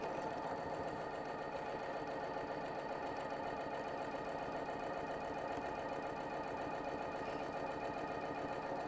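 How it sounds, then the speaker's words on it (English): A sewing machine runs continuously up close while backstitching a seam on a small fabric pouch, a steady rapid mechanical whir with no pauses. "I'm going to backstitch at the beginning."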